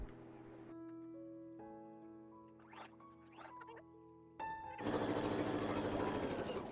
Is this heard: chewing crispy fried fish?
no